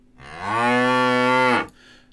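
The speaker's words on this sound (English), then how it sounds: "100 cows were in the field." A cow in a field gives one long, close moo that swells, holds steady for over a second, then drops off into quiet.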